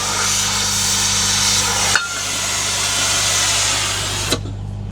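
Steady, loud roaring hiss of a cutting torch trimming back the worn steel edge of a Volvo LH150 bucket, running continuously with a brief pop partway through and another near the end.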